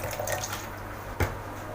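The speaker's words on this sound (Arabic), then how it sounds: "احط معلقه خل" A spoonful of vinegar goes into a bowl with yogurt and vanilla for a coconut cake, heard as a soft, brief liquid splash over a quiet kitchen background.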